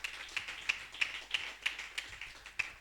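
A congregation claps at a church service, making a steady, evenly spaced beat of about three claps per second that sounds faint and somewhat distant, with no voices.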